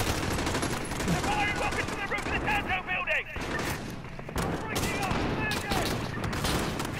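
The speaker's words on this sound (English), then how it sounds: "Who are we shooting at?" Gunfire from the Call of Duty Modern Warfare campaign crackles in dense, continuous bursts of automatic fire and explosions, loud and constant, while voices talk and shout over the battle.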